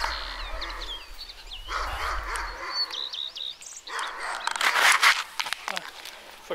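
A Belgian shepherd dog barks outdoors, a few sharp, fairly close barks mixed with birdsong in the background, while someone talks to the dog nearby.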